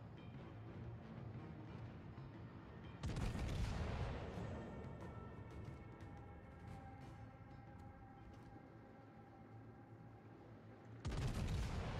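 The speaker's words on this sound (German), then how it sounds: "Schüsse sind wohl vorbeigegangen." Naval gunfire in World of Warships: two heavy, booming salvos roughly eight seconds apart, each loud and close, with a steady low rumble of the ship and sea carrying on between them.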